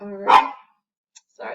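A dog barks once, loud and close, between bits of a person talking indoors.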